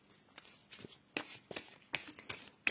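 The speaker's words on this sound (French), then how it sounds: "j'ai commencé mon tirage avec alors le petit Lenormand, le Golden Lenormand" Golden Lenormand cards being shuffled close by in a quiet room, several quick riffling bursts of crisp card flicks repeating in an uneven rhythm.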